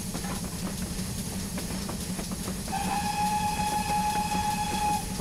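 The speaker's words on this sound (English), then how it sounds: "I'm whistling my horn before I go in to warn anybody in the tunnel" GWR Hall 4900 Class steam locomotive in a train simulator, running along a branch line toward a tunnel: a steady rolling rumble and hiss, then a loud, sustained steam whistle blast that holds to the end.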